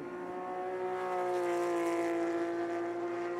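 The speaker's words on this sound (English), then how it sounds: "Sounds like he's getting a fair amount of power down to the ground." Porsche GT3 Cup race car accelerating hard in the rain at Barber during a 2017 Cup Challenge race, a steady loud engine note with strong harmonics holding and slowly rising over a few seconds, no talk over it.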